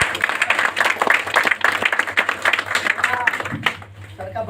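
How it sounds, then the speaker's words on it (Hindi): A crowd gives an enthusiastic round of applause for a speaker at a motivational talk, a dense, steady clapping that fills the clip from start to finish, with a faint hum running underneath. "सर के लिए एक जबरदस्त ताली बनी।"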